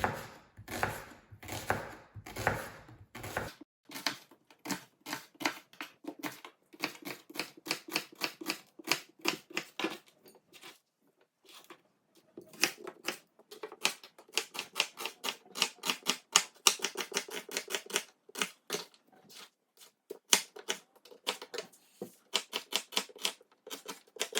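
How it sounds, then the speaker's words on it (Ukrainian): A knife chops an onion into half rings on a board: rapid, crisp, close taps in fast bursts with short pauses throughout, fairly quiet, with no talk. "Цибулю також ріжемо напівкільцями."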